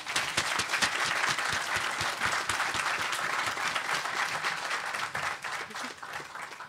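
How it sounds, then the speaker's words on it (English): A round of applause at a graduation celebration rings out from the crowd, many hands clapping close and steady before tapering slightly toward the end. "Let's give him another round of applause."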